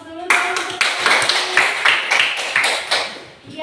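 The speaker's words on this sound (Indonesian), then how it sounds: "Kasih aplaus dulu." A classroom of students bursting into applause: dense rapid clapping for about three seconds, close and fairly loud, with a teacher's voice briefly heard around it.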